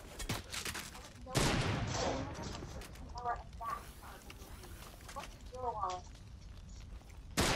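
Sharp bursts of gunfire in the video game Fortnite, scattered shots at moderate distance mixed with footsteps, under a player talking.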